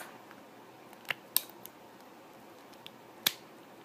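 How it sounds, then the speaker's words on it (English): Scissors snipping the rubber bubble off a pacifier nipple, a few sharp, faint clicks scattered through quiet room tone, with one crisp snip near the end. "All you need to do is just cut the bubble off, just like that."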